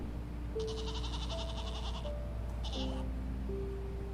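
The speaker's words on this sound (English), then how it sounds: "Trying to hear the goat noise." Goat bleat sound effect played on a livestream, a wavering nasal bleat lasting a few seconds with a second short bleat, over a steady hum and music-like tones, fairly quiet in the mix.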